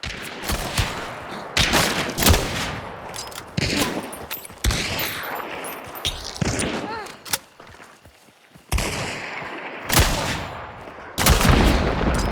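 Gunfire in the video game Hunt: Showdown rings out as repeated loud, sharp shots with booming echoes, coming in irregular bursts separated by short quieter gaps.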